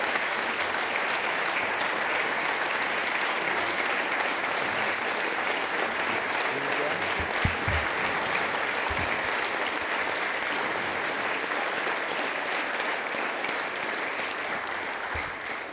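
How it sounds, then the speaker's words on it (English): Sustained applause from a large crowd in the South Dakota House of Representatives chamber, a steady wash of clapping that continues throughout, with a few faint voices mixed in. "So would you please give them a round of applause?"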